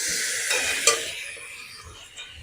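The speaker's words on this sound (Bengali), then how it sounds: "টমেটোটাকেও ভালো করে ভেজে নেব" Tomato frying with ginger and garlic for Bengali ghugni in a pan, a steady close sizzle with a few stirring scrapes, loudest near the start and easing off toward the end.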